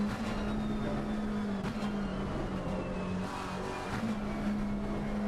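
GT3 race car engine in a racing video game at Bathurst, a steady droning engine note with shifting pitch and faint gear changes, loud and continuous throughout.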